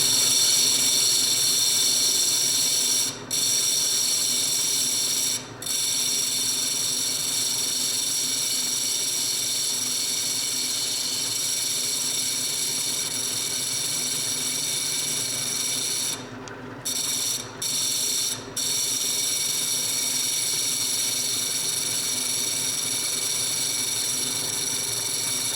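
Grinding wheel shaping a stone bead, a steady loud high whirring drone held for the whole stretch with a few brief dips as the stone is lifted away.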